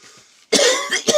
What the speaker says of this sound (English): Excuse me, I've been coughing